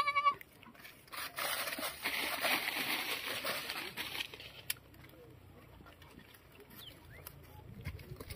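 Goats on a meat and dairy goat farm give a brief bleat at the start, followed by rustling and scattered farmyard noises, faint and close with a quiet voice mixed in.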